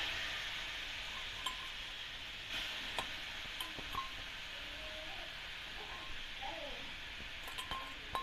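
Carrots sautéing in a kadai for carrot halwa give a soft, steady sizzle with occasional clinks and scrapes of stirring, faint and continuous with no talk.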